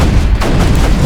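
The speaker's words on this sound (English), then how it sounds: "Let's get the big Bertha cannon coming on here." The Big Bertha cannon in the video game Creeper World 3 fires with a loud, dense, booming blast that rumbles on steadily, close and with no voices.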